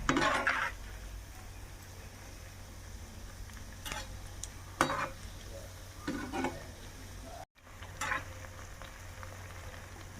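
Bread slices fry in hot oil until golden brown for double ka meetha, a soft steady sizzle broken by a few brief scrapes and clinks from turning, with a short silent gap.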